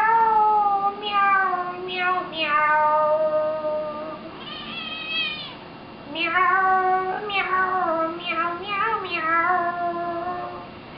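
A cat meows repeatedly, several drawn-out, wavering cries in a row with short pauses between, close and clear with no other sounds.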